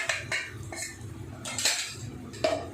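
Onion chutney with spices being mixed in a pan, a metal spoon clinking and scraping against the pan in several sharp, uneven strokes over a low background.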